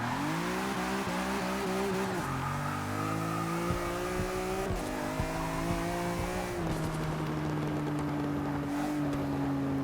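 A 1954 Jaguar XK120 SE with all-wheel drive drifts around a track in Forza Motorsport 6, its engine droning loud and steady through shifts in pitch, with tire squeal and skidding beneath.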